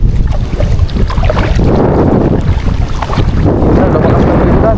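A small boat at sea takes strong, gusty wind and heavy rain, a loud, rough, continuous roar of wind buffeting the microphone with water noise, and a voice faintly heard beneath it.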